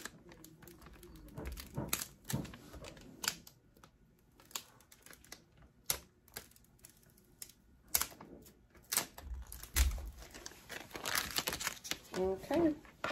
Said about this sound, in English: we're gonna peel it off. But again, make sure you peel it slowly